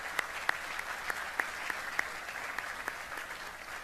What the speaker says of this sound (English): So round of applause for General Brown.